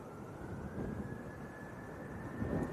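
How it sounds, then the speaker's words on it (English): TUI Boeing 787 Dreamliner passing at Manchester Airport, a steady distant low jet rumble with a faint high engine tone, heard alone. "TUI Dreamliner going across as well"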